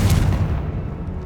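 In Hogwarts Legacy, a Confringo blasting spell detonates with a loud, sharp boom. Its bright crack quickly dies away, leaving a low rumbling tail, and nobody speaks.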